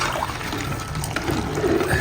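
Measured water pours steadily into a cooking pot for tehari, a close, continuous rushing and gurgling stream with no talking.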